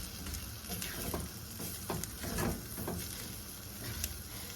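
Flour frying in sausage grease in a pan, a steady close sizzle with occasional soft scraping stirs.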